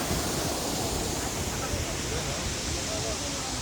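Tinuy-an Falls in Surigao del Sur roars as a broad, steady wash of falling water, loud and constant like surf, with no clear break or change across the short stretch.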